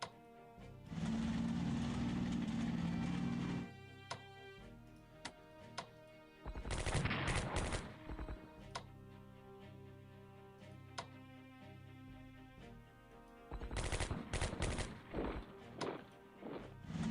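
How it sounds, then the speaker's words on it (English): Anti-tank guns firing at a Soviet tank unit in Strategic Command: WWII, a few heavy gunfire bursts separated by ticking game sounds and background music, with no talking. "Anti-tank guns here are going to attack this Soviet tank unit."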